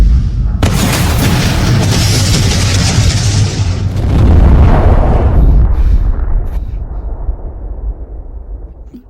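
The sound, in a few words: big firecracker explosion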